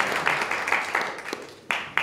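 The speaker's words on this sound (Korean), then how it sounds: "또 이어서 후보자님께 큰 박수 부탁드립니다" Scattered clapping from the audience at a student council election debate in a university hall, several sharp claps and a thin patter rather than full applause, fairly close.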